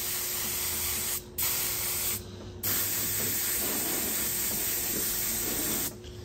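A pressurized sprayer running at 40 PSI applies polyvinyl alcohol during fiberglass work on a 1974 Starcraft boat, giving a steady close hiss that stops briefly twice and cuts out near the end.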